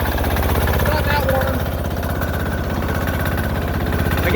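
A Sears Suburban 6HP diesel engine on a snow plow build chugs steadily while being broken in, a close, rapid, even knocking rumble with no pauses.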